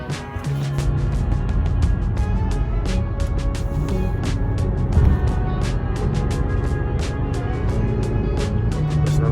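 A car engine, with the IBS battery sensor unplugged, drones steadily at idle and under light throttle as the gas is pressed and released, a loud close rumble with rapid clicking ticks over it and no speech.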